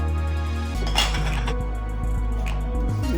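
Turkey larb ingredients with chili peppers and lime leaves being mixed in a bowl, giving close, steady clinks and scrapes of a utensil against the dish with a low constant hum underneath.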